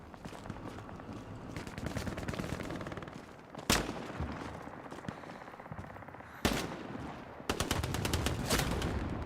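Gunfire in Hell Let Loose, an online World War II shooter: dense, steady rattling volleys of rifle and machine-gun fire, broken by a few loud, sharp nearby shots that stand out over the continuous battle noise.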